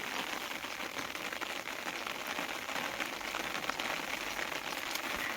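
Steady rain falls outdoors in open grazing land, a soft continuous hiss of drops on surfaces, fairly faint and even throughout with no talk.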